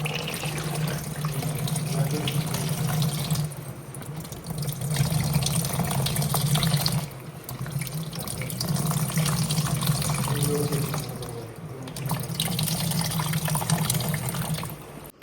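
Blended carrot, beetroot and aloe vera essence pouring into a soap mixture, a steady liquid gurgle and splash that runs in long stretches with brief pauses between them.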